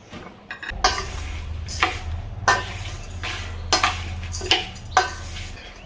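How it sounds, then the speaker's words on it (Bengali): Raw green mango pieces being stirred into sugar in a pot for a sweet-sour pickle, giving a run of scraping, clinking stirs repeated roughly every second under a low steady hum. "এবার আমগুলো চিনিতে ঢেলে ভালো করে মিশিয়ে রাখবো আধ ঘন্টার জন্য"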